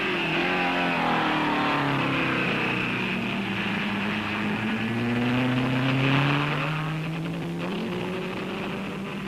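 A 1959 Aston Martin DBR1 and Ferrari race at the Nürburgring, with racing engines droning and shifting in pitch as cars pass, steady and fairly loud over a long, unbroken stretch.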